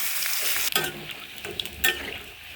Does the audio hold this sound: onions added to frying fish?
yes